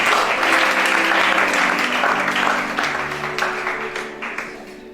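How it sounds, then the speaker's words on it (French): A church congregation breaks into loud, dense applause that fills the room, then gradually thins and fades toward the end. "Acclame chacun."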